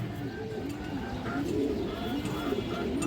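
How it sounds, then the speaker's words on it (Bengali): A female Army-breed pigeon coos in repeated soft, rolling phrases, fairly close, against steady low background noise. "মাত্র 1000 আর্মি মাদি কবুতর।"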